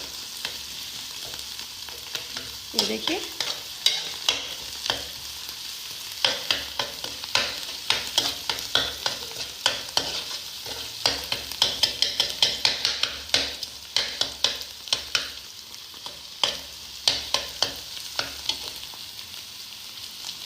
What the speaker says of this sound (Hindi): अब हम मिक्स करेंगे, थोड़ा सा लहसुन को भी भूनेंगे इसके अंदर